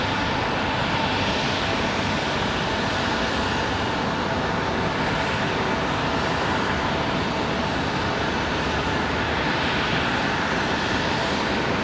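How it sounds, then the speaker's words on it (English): A Delta Airlines Airbus A320 at Raleigh-Durham International Airport roars with a loud, broad, steady jet-engine rumble that fills the whole stretch without letup, and no one speaks. "So we got an A320 for Delta Airlines"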